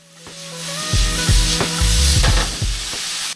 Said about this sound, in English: So I went in with my vegetables, a little bit of everything, bagel seasoning, and some minced garlic. Alright, giving that a nice toss.